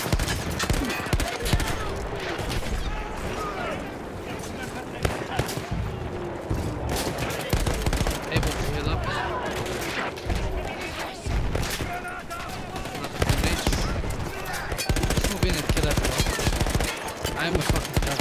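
Battlefield 1 gunfire rattles in loud, sustained automatic bursts and volleys, nearly unbroken across the stretch, with someone talking over the shooting.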